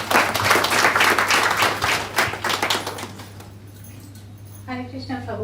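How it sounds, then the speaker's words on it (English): An audience at a Radhastami devotional evening program claps in a dense burst of applause that fades over a few seconds, followed by a voice speaking. "So let's give her a round of applause."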